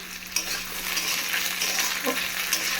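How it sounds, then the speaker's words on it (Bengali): Sliced onions fry in a hot pan for a spicy fish curry, a steady bright sizzle that runs throughout, with occasional light scrapes and clinks of a spoon stirring. "দেখো ভাজা ভাজা হয়ে গেছে, পেঁয়াজও ভাজা হয়ে গেছে।"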